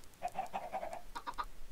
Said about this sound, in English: It's time to go, young chickens.